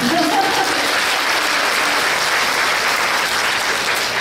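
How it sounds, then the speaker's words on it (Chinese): An audience applauds in a university lecture hall, and the dense, even clapping holds steady and close for a few seconds with no voices over it. "来给他 一个掌声吧"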